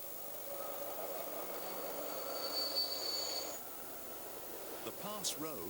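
A train rumbles steadily through a mountain tunnel on a Swiss railway, with a high metallic wheel squeal in the middle, muffled and enclosed, before a voice speaks over the fading noise.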